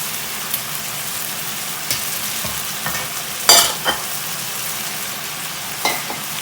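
Maitake mushrooms and baby bok choy sizzle in a hot pan during a stir-fry, a steady crackling hiss broken by occasional scrapes and clanks of the utensil against the pan.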